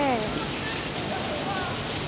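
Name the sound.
heavy rain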